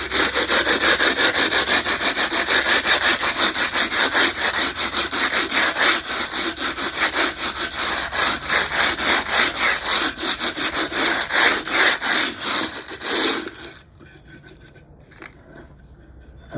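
Wet sandpaper is rubbed over a rough edge in fast, rhythmic scraping strokes that run loud and steady for about thirteen seconds, then stop abruptly into near silence.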